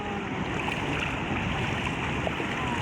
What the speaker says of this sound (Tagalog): Background ng waves ma'am.